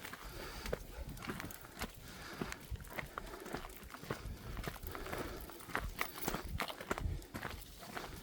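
Horses walking outdoors, with irregular hoof thuds and clip-clops at moderate distance over a wind-rough, noisy background.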